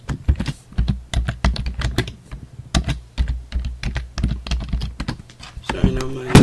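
Rapid, uneven keystrokes clatter on a computer keyboard, close and fairly loud, with a brief thump near the end.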